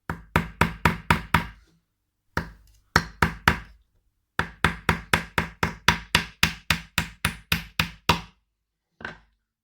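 Nails being hammered into wooden beehive frames, crisp repeated hammer strikes in quick bursts of five to ten blows separated by short pauses, close and loud with no talking.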